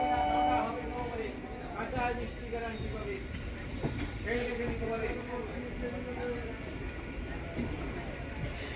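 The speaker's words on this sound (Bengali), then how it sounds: "নটা পঞ্চাশের বনগা মাঝেরহাট লোকাল আমাদের ট্রেন যাবে সোজা বনগা রানাঘাট সেকশনে সিঙ্গেল লাইন এটা" A Bangaon–Majerhat local train running on the single-line Bangaon–Ranaghat section: continuous rumbling and rattling of the moving carriages with irregular clacks from the wheels, heard from on board with people talking over it.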